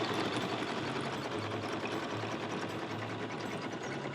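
A Brother or BERNINA embroidery sewing machine stitching a small Halloween pumpkin design, a steady, fast mechanical whir and rattle of the needle running continuously at close range without pause.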